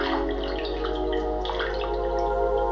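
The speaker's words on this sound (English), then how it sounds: "It incorporates the water sounds better." Soft water sounds from the video game OFF Remaster, a steady trickling and dripping bed running beneath layered game music throughout.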